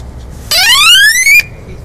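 Loud electronic bike horn blaring once for about a second, a shrill rising siren-like tone heard close up against a quiet background.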